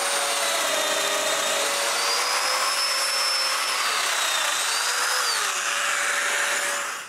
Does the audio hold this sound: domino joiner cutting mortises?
yes